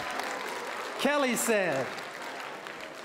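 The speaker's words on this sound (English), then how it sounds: "Y'all give a round of applause" Applause from an audience at a climate justice community event, a steady wash of clapping running under a brief spoken phrase from a voice in the room.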